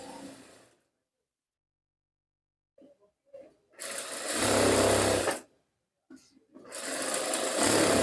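An electric sewing machine stitching a salwar pajama, running in two sustained loud bursts separated by silence, with short handling noises in between.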